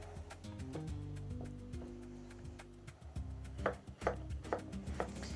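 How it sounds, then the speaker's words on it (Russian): A knife chops zucchini on a board in a home kitchen with a run of crisp, close cuts that get louder and sharper toward the end, with no talking. "Кабачки мы нарезаем."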